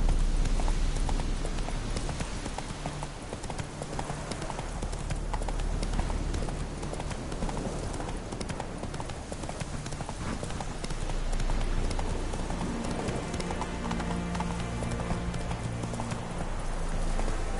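A horse gallops in the Witcher 3: Wild Hunt video game, its hooves clip-clopping in a steady, continuous rhythm for the whole stretch over a dense game soundscape.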